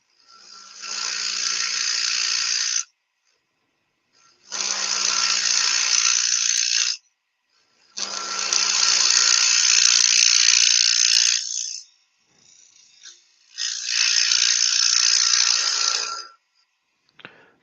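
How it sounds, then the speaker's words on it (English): A wood lathe turns a piece while a round nose scraper works the inside of the bottom, producing four long loud buzzing passes of steady rasping noise separated by near-silent gaps. "I think I'll use a round nose scraper to bring that round the bottom."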